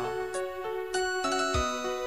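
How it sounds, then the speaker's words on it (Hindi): Mobile phone ringtone playing a bright, tinkling electronic melody of sustained tones that shift pitch in steps, heard clearly and without talk. "आपका फोन की घंटी बार बार बज रहा है।"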